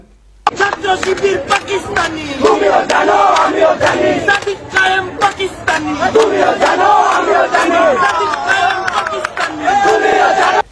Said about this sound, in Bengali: এই যে দেখেন মেঘমাল্লার স্লোগান দেয়